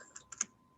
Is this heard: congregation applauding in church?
no